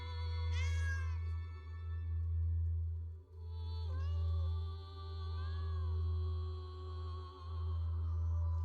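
A cat meows a few times in an English-dubbed fantasy anime, the cries clear and close over a steady low background hum, with no talking.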